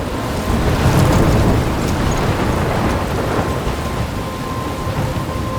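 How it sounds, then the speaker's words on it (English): Steady heavy rain with rolling thunder during a storm in the video game Life Is Strange, a dense continuous roar that stays loud throughout. "I'm trapped in a storm?"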